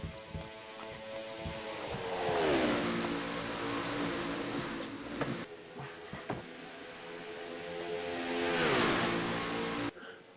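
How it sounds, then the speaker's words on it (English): In a stock car racing video game, a field of race cars roars past twice, each pass swelling to a loud, pitch-dropping engine sweep before fading, with a steady engine drone between the passes. "Field coming by to complete yet another lap here."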